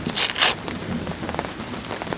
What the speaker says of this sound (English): it is now raining again